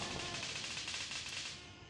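Rapid automatic gunfire in the military shooter Gray Zone Warfare, a dense, sustained burst of shots at steady loudness that tails off slightly near the end, with no talk over it.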